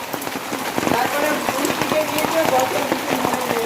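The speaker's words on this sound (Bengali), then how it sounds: "ভালো জলে বৃষ্টি হচ্ছে আওয়াজ শুনলেই বুঝতে পারছো তোমরা" Heavy rain drumming on a plastic shelter: dense, steady close patter of drops with sharper taps on the plastic, with a voice talking over it.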